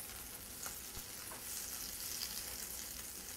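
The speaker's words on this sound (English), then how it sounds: "Get your pan nice and hot. Add 2 tablespoons of butter." Butter and onions sizzle in a hot pan, a soft, steady crackling hiss with a few faint stirring sounds and no voices.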